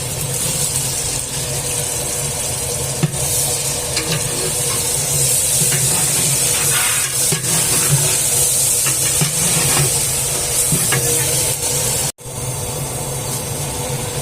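Eight kilos of cut onions frying in oil in a large pot, a steady loud sizzle and hiss holding throughout with a low rumble beneath, broken only by a brief cut near the end.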